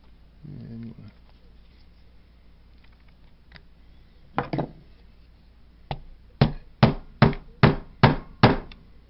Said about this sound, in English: all that's doing is pounding it into the wooden block